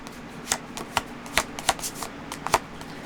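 A tarot card deck being shuffled, a run of crisp riffling bursts at an uneven rhythm, close and fairly quiet, with no talking.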